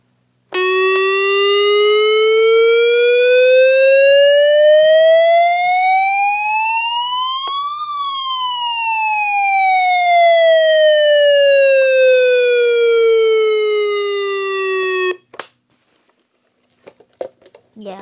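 A homemade Guardian Alert siren wails loud and close, its tone sweeping steadily upward for several seconds and then back down. It cuts off abruptly, leaving near silence broken by a few small clicks.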